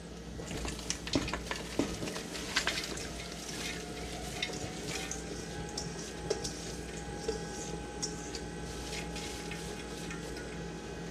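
Peppers being added to a pot for homemade canned salsa and stirred, with a steady low simmer and occasional light clinks of a utensil against the pot, close and fairly quiet with no talking.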